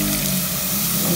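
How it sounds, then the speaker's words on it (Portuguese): Milk splashes into a hot pan of wheat flour that has been frying, making a brief, loud, steady hissing gush. "agora eu vou colocar o leite"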